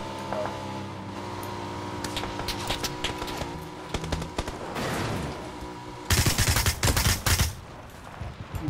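Gunfire in the PUBG Battlegrounds shooter, with scattered shots under a steady background that build into a dense, loud, close burst of rapid fire near the end.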